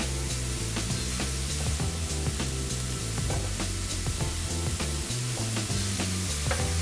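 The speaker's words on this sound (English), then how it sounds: "Give that a little stir around." Sliced mushrooms with white pepper and nutmeg stirred in a hot frying pan, a steady close sizzle broken by scraping and clacking spoon strokes throughout, with no talking.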